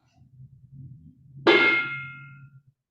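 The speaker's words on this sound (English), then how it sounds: "Give the big bell a sharp chunk." A big meditation bell struck once sharply, a single bright clang that rings briefly and dies away within about a second, following a low soft murmur, with little resonance.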